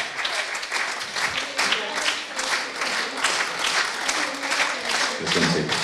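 Audience applause at a Hungarian harvest ball held by a seniors' heritage club in Mezőtúr, a steady, dense clapping that fills the whole stretch at even loudness, with a few voices mixed in.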